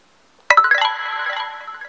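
A phone SMS notification tone plays through a custom car audio system in a Daewoo Nexia: a sudden electronic chime with a sharp attack that rings on steadily and loudly, heard alone.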